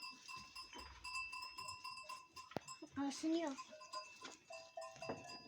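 Sheep in a flock on a Turkish farm, with early-lambing ewes among them, give a couple of short bleats at middle distance over soft background noise, while someone speaks briefly nearby.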